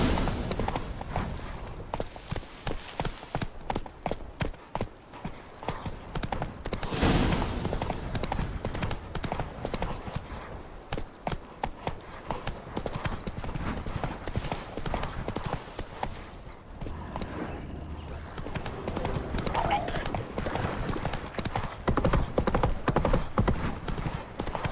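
Roach, the horse in the video game The Witcher 3: Wild Hunt, gallops with a steady, rapid clip-clop of hooves that runs close and loud throughout, alongside other game sounds, with a brief whinny possible.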